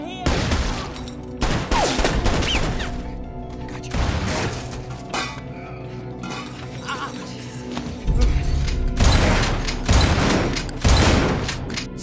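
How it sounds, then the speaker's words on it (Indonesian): Repeated bursts of loud gunfire and rapid volleys from an action film, with crashing impacts and booming shots crowding together across the whole stretch, close and intense with almost no quiet between them. "Burrell yang melihat hal itu langsung menembak Louis hingga dia terkapar juga."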